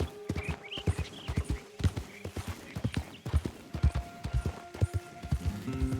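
Horse hooves clip-clop in Red Dead Redemption 2, a steady rhythmic series of hoof strikes at a trot, close and distinct, with faint game ambience and brief tonal sounds in the background.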